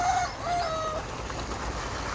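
Native country chickens on a breeding farm, with a rooster-like call and clucking over a steady, dense background hum of farm noise.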